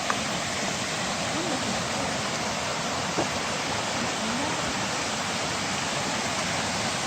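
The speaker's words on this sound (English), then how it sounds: "right now, I just want to look at this waterfall." A waterfall pours steadily beside a forest hiking trail in Tioga State Forest, giving a dense, even rush of falling water that holds without a break for the full stretch, close and fairly loud.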